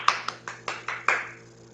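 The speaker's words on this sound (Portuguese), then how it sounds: "Inari bateu palmas." Six sharp hand claps ring out in a steady rhythm during a storytelling performance, close and distinct, the final clap trailing off into a short room echo with no talking.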